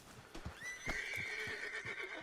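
A horse in the video game Red Dead Redemption 2 gives a long, close neigh over steady clip-clopping hoofbeats as it moves along.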